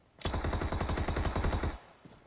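Rapid automatic gunfire in a battle royale video game: one fast, even burst of about twenty shots, fairly close and loud, followed after a short pause by a single fainter shot.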